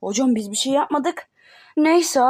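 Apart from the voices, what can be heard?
No distinct noise like a dog, phone or traffic.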